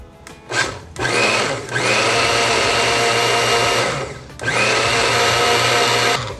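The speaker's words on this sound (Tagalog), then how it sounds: "put it in your Kiowa blender and then we're gonna process this until smooth" A Kiowa blender purees warm butter chicken sauce in two loud, sustained whirring bursts, separated by a short pause, up close with no talking.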